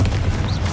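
Bombarda explosion spell in Hogwarts Legacy rendered as a heavy, close, low boom that rumbles steadily through the moment with a faint whistling tone near the end, without speech.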